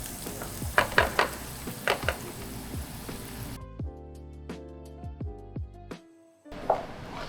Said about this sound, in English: See the onion boiling or sizzling right there